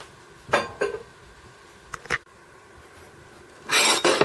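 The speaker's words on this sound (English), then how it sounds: "So let's grab a pan." A metal cooking pan is grabbed and handled, giving a few short scraping and clattering knocks close by, separated by quiet gaps, before a longer rasping rub at the end.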